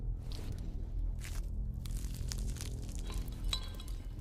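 A crispy cheese tuile is cut on a plate during a cooking competition, giving quiet, scattered crackles and brittle snaps mixed with light clinks of cutlery.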